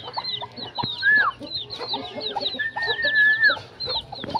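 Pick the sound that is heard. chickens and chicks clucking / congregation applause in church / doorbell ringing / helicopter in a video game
chickens and chicks clucking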